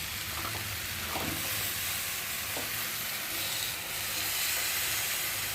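Chopped Malabar spinach (pui shak) goes into spices frying in a pan for a chorchori, giving a steady, close sizzle and hiss with a few soft stirring knocks and no voices.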